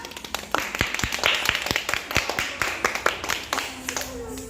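Hands clap in a quick, uneven series of close, sharp claps at a small home gathering, with people talking over and between them.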